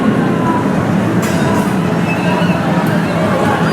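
Roller coaster train on Vortex at Kings Island returning to the station and flipping back into its load position, a steady rumbling mechanical rail noise with faint crowd babble throughout.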